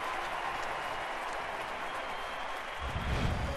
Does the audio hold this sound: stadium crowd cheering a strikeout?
yes